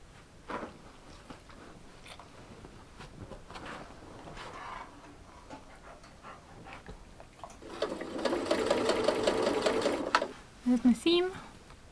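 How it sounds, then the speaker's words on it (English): A sewing machine stitches a seam through fur fabric in a short, steady burst near the end, following quieter handling noises and some speech. "So I'm going to go stitch that together."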